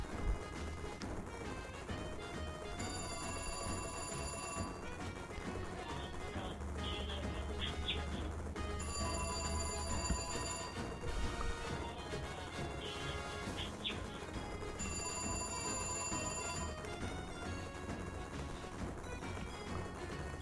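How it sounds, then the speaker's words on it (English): Telephone ringing in the Sega CD game Third World War: a bright electronic ring sounding in three repeated bursts of about two seconds each, spaced evenly over steady game music and noise. "And there's the phone."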